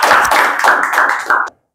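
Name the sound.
spoken English class clapping for students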